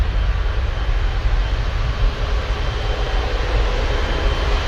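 A jet airliner rolling out at Manchester Airport produces a loud, steady broadband engine roar with a deep low-end rumble, constant and close with no other sounds.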